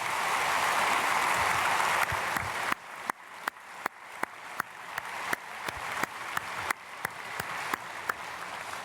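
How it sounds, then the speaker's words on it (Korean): A church congregation at a Sunday worship service applauds to welcome newly registered members: a dense, loud wash of clapping that thins after a couple of seconds into scattered individual claps that slowly die away. "우리 크게 박수로 환영하겠습니다."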